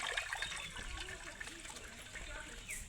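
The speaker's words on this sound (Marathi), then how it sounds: "आता धुवून घेऊ राहिले आणि स्वच्छ पाण्याने धुवायची" Patharichi bhaji leaves washed in clean water, a close continuous slosh and trickle of water with small splashes throughout, no clear voice.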